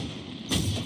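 A single gunshot from a high-caliber precision weapon in a video game, a sudden thump about halfway through followed by a brief rumbling tail over steady background game sound.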